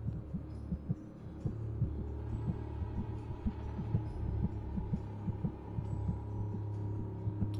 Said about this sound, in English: This heartbeat sounds like someone like squeezing a plastic water bottle.